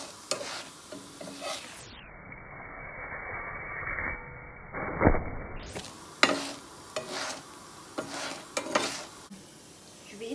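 Cheese bread fries in oil in a pan with a low, crackly sizzle. A utensil stirs and scrapes through it, with a brief muffled dropout near the middle.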